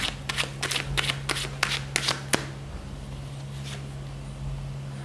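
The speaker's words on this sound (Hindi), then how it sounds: "हम कार्ड्स को शफल कर रहे हैं और देखते हैं आपका आंसर येस है या फिर नो है" Deck of tarot cards being shuffled by hand: a quick series of crisp riffling and flapping bursts close by, stopping after a couple of seconds and leaving a quiet steady hum with no talking.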